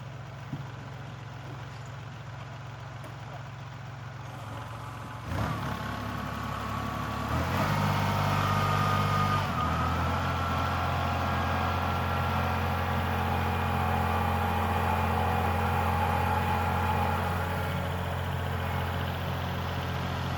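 A Kubota L3901 tractor on R4 tires works through snow in two-wheel drive, its diesel engine droning steadily, then rising to a louder, heavier labouring note partway through that holds to the end.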